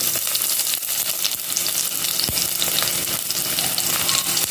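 Onion sizzling in hot oil in a pan with popped mustard seeds, finely chopped garlic and ginger, a steady broadband crackle with scattered sharp pops, close and fairly loud, no voices.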